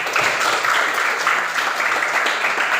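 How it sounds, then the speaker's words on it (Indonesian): A classroom group claps together in steady, dense applause that fills the whole moment, loud and close, with only faint voices beneath. "Kasih tepuk tangannya dulu"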